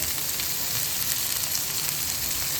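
French beans, spring onions and capsicum are stir-fried over a high flame for Indian-style vegetable Hakka noodles, producing a loud, dense, continuous sizzle close up, with no talking.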